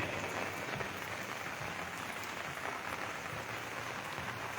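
Steady rain patters on a surface, a dense, even hiss of drops that continues without pause. No voices.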